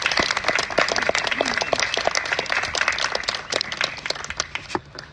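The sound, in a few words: round of applause at a memorial vigil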